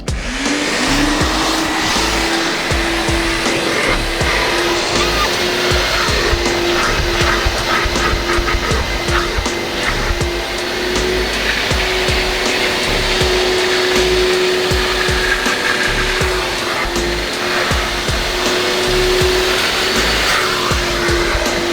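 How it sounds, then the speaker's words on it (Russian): A steady, loud motor whine with a constant pitched hum runs the whole time, like a wet vacuum drawing in water, dirt and cleaning chemical from a car interior floor, with no talking. "и втянуть в пылесос остатки грязи с химией вместе"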